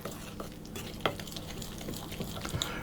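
Anise-infused milk being stirred into icing sugar to form a paste for cookie icing, a steady soft scraping and swirling that runs continuously with a few small clinks, close by and with no talking.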